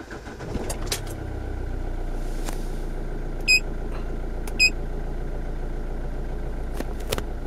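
A 2010 Hyundai i20 diesel with a no-power fault cranks briefly and settles into a steady idle, with a couple of short electronic beeps partway through and no speech.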